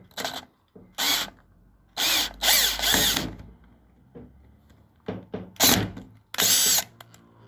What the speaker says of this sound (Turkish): matkap uçlu vidayı gönderiyorum şimdi